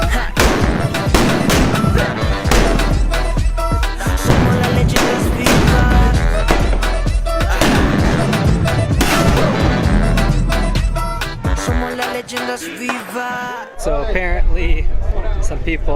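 Loud sharp blasts from exploding hammers crack repeatedly at a crowded festival, many bangs in fast irregular succession close by, with shouting and crowd noise between them and voices talking throughout.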